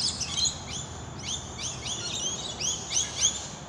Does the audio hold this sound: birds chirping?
yes